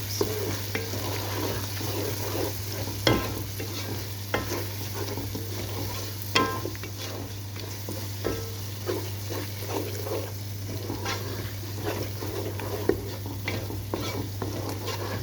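Tomato paste sauce with a splash of water cooking in a pan, a steady close sizzle broken by repeated spoon stirs and scrapes, with a low hum underneath.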